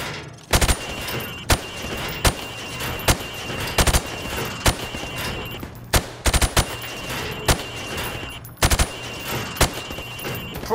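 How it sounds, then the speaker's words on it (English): Rifle shots ring out at pop-up targets on a training range in Call of Duty: Modern Warfare Remastered, about a dozen sharp, loud cracks, some single and some in quick pairs or triplets, at uneven intervals over steady background ambience. "I want you to shoot the targets through the wood."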